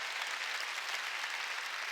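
A church congregation applauding during a Sunday worship service, a dense, even patter of many hands clapping at moderate distance, continuous for the whole two seconds.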